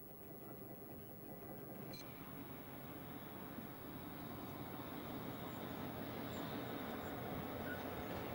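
An Irish Rail freight train runs round in Dundalk's Barrack Street yard, a steady low rumble and clatter of rolling wagons that grows slightly louder, with one brief squeal early on.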